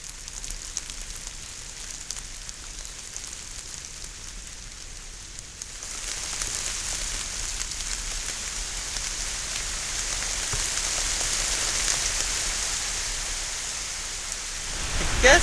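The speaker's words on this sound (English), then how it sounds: "as soon as I got in my tent, it poured." Heavy rain pouring onto a tent: a dense, hissing patter that starts lighter, then swells into a steady, loud downpour drumming on the fabric, ending in a brief rustle.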